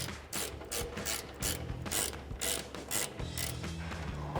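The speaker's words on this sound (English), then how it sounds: "we're using a ratcheting wrench here, and get these removed" A ratcheting wrench removing the strut top nuts on a Tacoma during a leveling strut extension install, with rapid, close, continuous ratchet clicking in quick repeated strokes.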